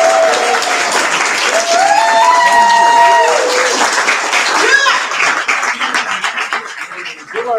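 Sustained applause from a crowd at a youth leadership conference's closing plenary session, steady clapping filling the room for several seconds while a few voices and cheers rise over it before it tapers off.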